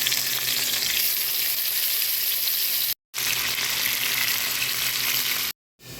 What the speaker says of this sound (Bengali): এখন মাছগুলো আমি ভেজে নেব